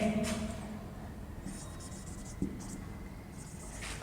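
Marker or chalk writing on a board during a Hindi-language physics lesson on electric charges and fields: soft scratchy strokes in short bursts over several seconds, close, with a brief knock and faint room noise.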